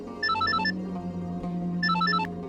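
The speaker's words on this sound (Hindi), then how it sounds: "आबिदा का फोन" A phone ringtone for an incoming call plays loudly and close, two bursts of bright repeating electronic melody separated by a short pause, over a faint low background hum.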